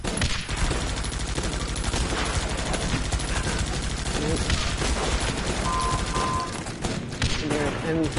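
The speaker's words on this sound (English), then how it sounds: "there's enemy fire" Enemy gunfire in the Battle Ages strategy game, a dense continuous barrage of rapid shots and explosions over background game music, loud and sustained throughout.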